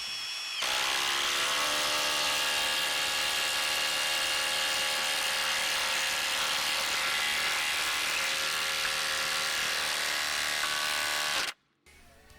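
A Milwaukee M18 Fuel Gen3 impact driver on its highest setting drives a 1/2 inch lag screw without a pilot hole, a loud continuous high-pitched whine lasting about eleven seconds before stopping abruptly.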